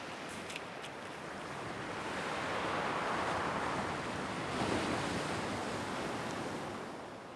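Sea waves and surf washing in along the coast below the chalk cliffs south of the Baie de Somme, a steady broadband wash swelling mid-clip with some wind, continuous and moderately distant, no voices.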